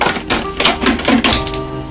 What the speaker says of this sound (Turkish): Falçatayla açıp makasla girerseniz daha rahat olur.